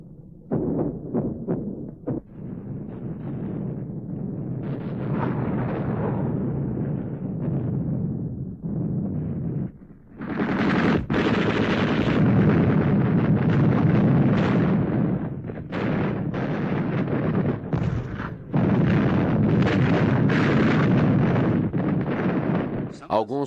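Heavy artillery and intense gunfire in a WWII battle for Berlin: loud, dense blasts and bursts of shooting roll on almost without pause, with a brief lull near the middle.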